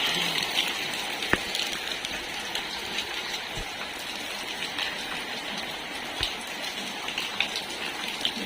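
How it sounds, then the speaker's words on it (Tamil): Heavy rain pouring steadily at night around three in the morning, a dense continuous hiss of drops hitting surfaces with occasional sharper splashes, close and loud with no voices. "செம்ம மழை பெஞ்சிட்டு இருக்கு"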